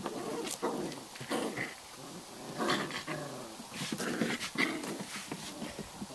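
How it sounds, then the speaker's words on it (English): A puppy growls in short, rough bursts close by, interleaved with soft whimpers and panting, with no talk. "I'm getting puppy kisses."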